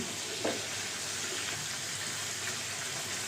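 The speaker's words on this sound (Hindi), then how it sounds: "अब ये सारी प्याज इसी के अंदर डाल दीजिए। एकदम से इसका अच्छी तरह से ब्रिस्ता बना लीजिए, गोल्डन फ्राई कर लीजिए इसको।" Chopped onions frying to golden brown in hot oil for chicken biryani, a steady close sizzle with faint stirring, alone without speech.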